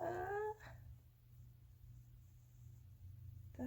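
A dog whimpers in a high, wavering whine at the start, then a quiet room, and a short whimper returns at the very end.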